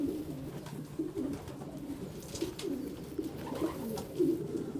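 A racing pigeon, a Macaroni cross Lambrick, coos in a low steady rumble, with repeated soft warbling phrases close by and no talking.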